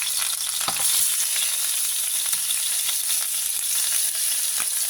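Steak sizzles and spits in a hot pan, a loud, dense, continuous hiss with occasional sharp pops, close by and without any voices.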